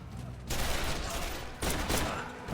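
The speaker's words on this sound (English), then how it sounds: "The groups clashed in a fierce gunfight." Gunfire in a fierce gunfight, dense bursts of loud rapid shots in two sustained volleys, with a brief lull between them.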